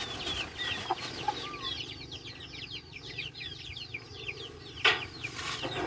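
Chickens clucking in a coop beside a house, a steady chorus of busy clucks and short calls continuing throughout at moderate distance with no talk.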